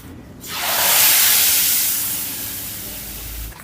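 Hot tempering is poured into tomato rasam, giving a single loud hissing sizzle that swells quickly, then slowly fades away, with no talk.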